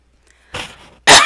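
A single person coughs twice, a softer rough cough followed by a sharper, louder one, close up with no talking.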